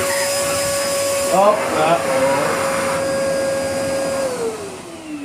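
A Karcher T9/1 Bp vacuum cleaner running a powered turbohead with the suction relief valve half closed, a loud steady motor whine that shifts pitch and then drops toward the end, while someone speaks briefly over it.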